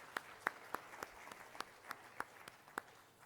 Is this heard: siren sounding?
no